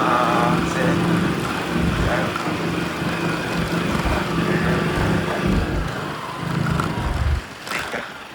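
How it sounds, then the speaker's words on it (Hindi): Motorbike engine running steadily during a ride on a rural road, a continuous low hum with wind rumble throughout, fairly loud, a brief dip near the end, with no clear speech over it. "बाइक की रेस ही नहीं उठती भाई, वरना पता चल जाए कितनी भाग रही है"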